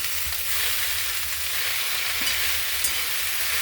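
Green chilies stir-frying in a pan, a loud, constant hiss of sizzling oil close up, with faint stirring scrapes underneath.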